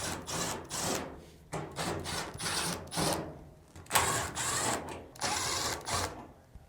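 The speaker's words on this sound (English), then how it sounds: "Now, remove the 4 screws on the front drum assembly." Screws are backed out of the front drum assembly of a Samsung dryer with a power driver, in short whirring bursts separated by pauses, up close and fairly quiet.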